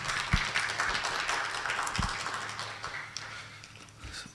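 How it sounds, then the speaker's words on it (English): Conference audience applauding at the end of a psychiatry congress session talk, a dense patter of hand claps with a few sharper taps standing out, fairly steady throughout then gradually thinning and fading toward the end. "So can we give a round of applause, please?"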